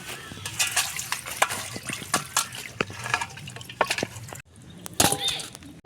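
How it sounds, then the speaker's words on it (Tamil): Close-up wet squelching and splashing as pieces of chicken are rubbed and rinsed in a bowl of water, with clattering knocks and no talk. "தண்ணியை போட்டு வாஷ் பண்ணிக்கலாம்."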